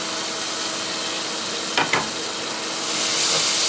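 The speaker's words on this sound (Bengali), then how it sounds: "1 চামচের মতো লঙ্কা গুঁড়ো দিয়ে এগুলোকে ভালো করে ভেজে নেব" Chili powder and spices fry with grated tomato in a pan for Bengali bhola fish curry, giving a steady close sizzle, two brief stirring scrapes near the middle, and a louder hiss toward the end.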